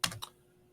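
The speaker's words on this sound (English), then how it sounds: "the spacebar on my keyboard" A computer keyboard spacebar pressed, producing two quick close clicks in rapid succession, the first louder than the second, followed by near silence.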